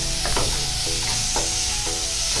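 Tomato and onion fry in a pan with salt and turmeric, sending up a steady dense sizzle while a utensil scrapes and stirs in a few evenly spaced strokes, close and loud with no talk.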